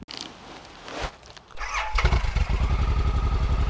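An engine cranks briefly, then catches and settles into a steady, rapidly pulsing idle, fairly close and loud.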